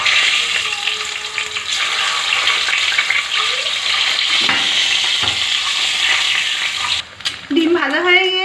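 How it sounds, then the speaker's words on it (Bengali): Eggs sizzle in hot oil in a pan, a continuous crackling fry with occasional stirring, and a clatter near the end. "এবার ডিম ভেজে নেব।"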